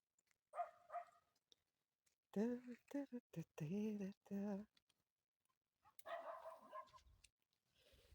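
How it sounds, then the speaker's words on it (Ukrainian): A dog barks on a calm evening in a garden, giving a few clusters of short yelping barks separated by quiet pauses, fairly soft and somewhat distant, with a voice briefly heard. "Десь собака гавкає."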